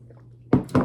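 Tea slurped from a cup, two quick wet sips in a row, close to the mic after a faint hum, with no talk.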